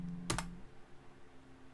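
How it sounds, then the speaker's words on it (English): A single quiet keystroke clicks on a computer keyboard while a name is typed, one short tap followed by near silence and faint room hum. "let me focus on typing a name"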